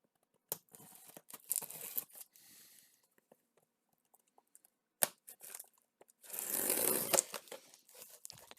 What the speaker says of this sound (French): on va se prendre un petit quelque chose pour ouvrir le carton proprement